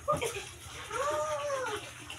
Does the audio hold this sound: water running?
yes